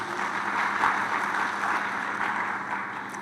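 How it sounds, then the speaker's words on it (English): An audience at a scientific congress session claps for a speaker. The applause is an even, steady wash of hands that neither rises nor fades much over its short span. "give him a hand of applause, please"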